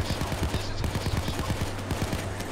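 Rapid bursts of automatic gunfire from a Payday 2 diamond heist shootout, dense repeated shots throughout at steady loud level.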